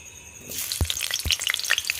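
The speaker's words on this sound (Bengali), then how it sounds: "এবার আলুগুলো ভেজে নেব।" Potatoes dropped into hot oil in a wok for a vegetarian raw-banana kofta dish, giving a sudden loud burst of frying, then crackling, popping bubbles and a couple of low knocks, close by with no one speaking.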